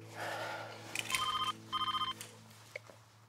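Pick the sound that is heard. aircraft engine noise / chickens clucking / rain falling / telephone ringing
telephone ringing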